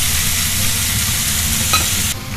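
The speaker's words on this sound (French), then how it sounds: "Il faut absolument que la viande soit saisie et qu'elle ne rompe pas son eau." Veal pieces sear in a hot pan on a burner at full heat, giving a loud, steady, close sizzle that cuts off abruptly just before the end.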